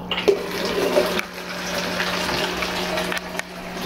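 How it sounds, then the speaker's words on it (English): Water rushing and splashing into a bucket while an aquarium is refilled during a water change, a steady close gush with a low pump-like hum underneath. "I get some more water in here."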